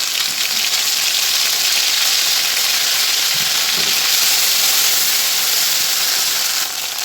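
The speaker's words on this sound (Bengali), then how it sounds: "এই তেলে আরেকটু তেল দিয়ে আমি জিরে ফোড়ন দেবো।" Cumin seeds and a paste of ground ginger, cumin and chilli sizzle loudly in hot oil for a pointed gourd and potato dish, a dense, steady, close hiss with no pause.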